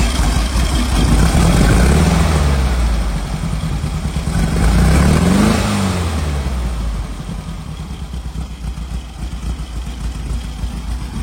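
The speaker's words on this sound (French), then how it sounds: "Le moteur est froid, de toute façon on l'entend." A 1969 VW Beetle engine, started cold, runs close by with a loud air-cooled idle, rising in a couple of revs before settling back to a steady rumbling idle.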